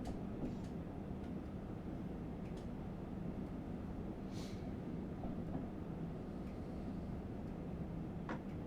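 Locomotive running in the railway simulator Train Sim World 6: a steady, continuous mechanical rumble and hum with faint rattles and occasional hissing, moderately quiet and unbroken throughout.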